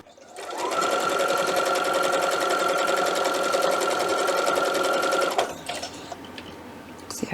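A sewing machine stitches quilt fabric in a steady, loud, continuous whir for about five seconds, then stops, leaving quieter handling sounds.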